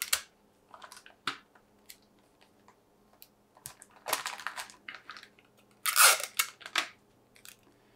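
Clear tape is pulled off the roll in short crackling bursts and pressed down onto folded plastic, a quiet close-up sequence of sticky rips and taps with no talking.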